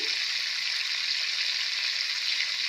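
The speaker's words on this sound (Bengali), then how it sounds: "মাছগুলো ভেজে নিচ্ছি" Prawns frying in hot oil for a Bengali prawn malai curry, a steady, close hiss and sizzle that holds evenly throughout with no talking.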